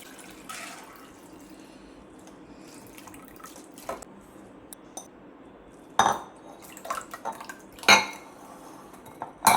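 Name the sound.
draining water from soaked rice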